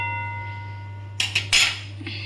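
A lid is set onto a cooking pan of thor and prawn curry, giving a few brief metallic clinks and a short scrape over a steady low hum, with no talk.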